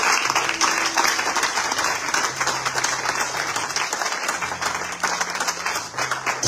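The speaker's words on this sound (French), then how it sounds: "Est-ce qu'on peut acclamer le Seigneur?" A church congregation claps in steady, sustained applause that fills the room, with low held tones from an organ or keyboard under the clapping.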